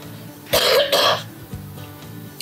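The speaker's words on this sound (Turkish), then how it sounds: "bu kuru öksürük hala devam ediyor" Two dry coughs in quick succession, loud and close, from a person outdoors in a rural village area with cacti, followed by a faint breathy throat sound and quiet background.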